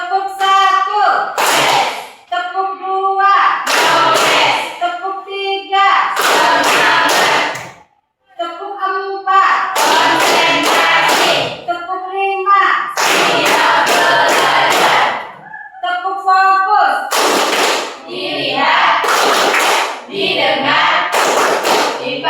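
Children in a classroom clap in counted rhythmic bursts, each set of sharp claps alternating with a teacher and pupils chanting, loud and close.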